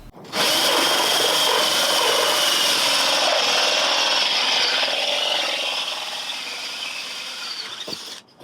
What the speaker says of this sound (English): You need a hole saw, 2 inches.